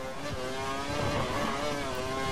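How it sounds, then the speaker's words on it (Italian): A Formula 1 race car engine in the video game F1 2012, at Melbourne qualifying, drones loud and close with a sustained high, buzzing whine that holds steady throughout. "Sta sbiellando il motore."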